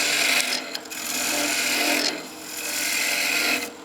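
A skew chisel takes planing cuts on a spinning wooden top turning on a wood lathe, producing close, loud rasping shears in three sustained passes separated by brief pauses, with no talking.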